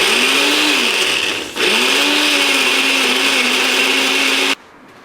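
A blender grinds strawberries with a loud, steady whir that dips briefly as the motor pulses, then returns to a strong hum before cutting off abruptly near the end.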